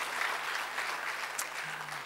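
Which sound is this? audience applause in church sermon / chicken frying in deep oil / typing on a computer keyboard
audience applause in church sermon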